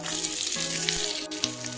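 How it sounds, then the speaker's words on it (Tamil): Onions sizzle and fry steadily in ghee in a pan, a continuous close crackle with sharp spits throughout, no voices over it. "வெங்காயம் நல்லா வதங்கிடுச்சு."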